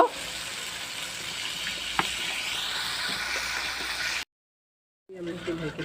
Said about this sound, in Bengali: এবার আমরা একটু ঝোল দিয়ে দিব